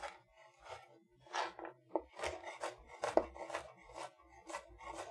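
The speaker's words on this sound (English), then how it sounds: "we are just going to do like a little, like a rough mince" A knife chops rapidly through garlic cloves on a board in a rough mince, a quick irregular run of close, crisp taps and scrapes with no talking.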